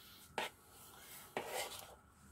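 Two short clinks of a spoon against a dish of syrniki (cottage cheese pancake) mixture, close and fairly quiet, about a second apart with soft scraping between.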